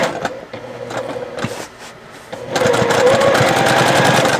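A sewing machine stitches along a marked line on a cloth menstrual pad, starting with a few short bursts and then running steadily and loudly in a continuous whir, close up and alone.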